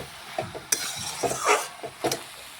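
Cabbage cooking in a pan is stirred with a utensil, making intermittent scraping and clattering strokes over a faint sizzle, close and fairly quiet.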